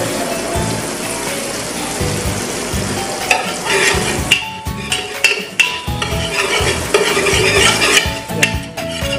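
Melted butter stirred in a pan on the stove for no-bake mac and cheese: steady scraping and clinking of the utensil against the pan over a constant fizzing sizzle, close and fairly loud, with no talking.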